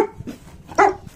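A dog gives a couple of short, sharp barks nearby, the second louder and fuller, with quiet gaps between.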